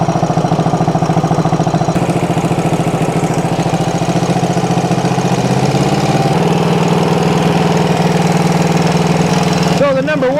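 An engine with its ignition timing set far off runs steadily at idle, loud and close, with a continuous low rumbling drone whose pitch shifts slightly partway through.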